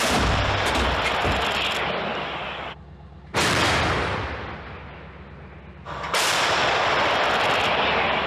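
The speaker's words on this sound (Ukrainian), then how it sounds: "Самохідну артилерійську установку краб калібру 155 мм." A KRAB 155 mm self-propelled howitzer fires three times, each a deafening blast with a long rumbling tail, spaced a few seconds apart.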